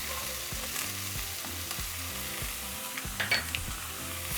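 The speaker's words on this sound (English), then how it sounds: "So break down the meat and allow it to cook for about 7 minutes" Ground meat seasoned with chili powder, paprika, cayenne and black pepper fries in a pan, a close steady sizzle broken by repeated scraping strokes and a few light utensil clinks against the pan.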